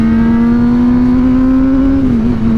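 A Honda CBR600RR motorcycle engine revs hard during a wheelie, giving a loud, close, sustained high drone that holds nearly steady and dips briefly near the end, with no voices.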